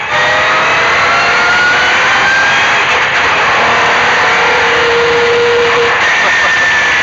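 The engine of an MG Metro 6R4 Group B rally car roars loudly and continuously on a road drive, its pitch climbing and wavering as the revs rise past 4,000, heard from close by inside the vehicle.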